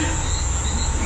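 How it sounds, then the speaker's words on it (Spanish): Insects chirp in a dense, steady night chorus in the Peruvian jungle near Iquitos, a continuous shrill drone with a low hum beneath, with no talking. "si pueden escuchar todos los insectos que hay."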